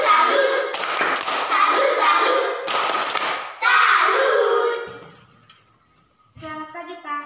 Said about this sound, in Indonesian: Tepuk salut dulu untuk mereka berdua dulu